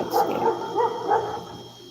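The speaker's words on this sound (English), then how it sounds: "He's just barking for food." A small dog gives four quick, yappy barks in a short uneven series while begging for food, close and moderately loud, with a faint hum underneath.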